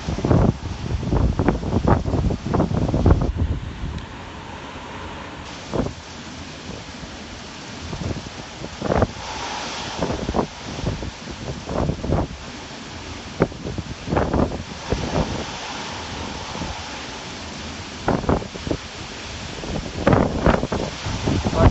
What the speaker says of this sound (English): Stronger wind now, building up.